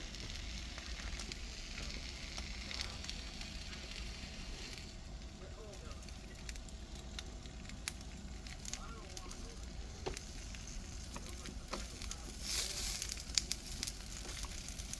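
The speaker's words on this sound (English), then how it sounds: "Well, unexpected flame up." Flames flare up under beef and chicken skewers on a grill, a steady roaring crackle and sizzle that runs throughout with scattered pops, while someone talks over it now and then.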